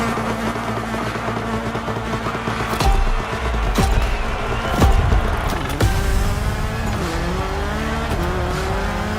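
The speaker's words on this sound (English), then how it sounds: "You'll have to keep control of a fast rally car through the narrowest paths of Hawaii" A fast rally car in The Crew Motorfest races along narrow Hawaiian paths, its engine revving hard and shifting, with tires squealing and sharp impact bangs, loud and continuous throughout.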